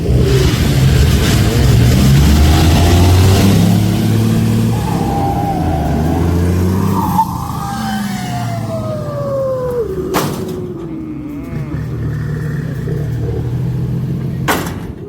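Car with a loud aftermarket exhaust revving hard up close, a deep roaring engine climbing in pitch then fading as it pulls away, with a siren-like whine in the mix.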